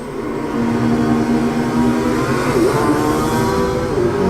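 Engines of GT300 race cars in a racing video game rising together as the pack pulls away from a race start, a loud sustained layered drone with climbing pitch.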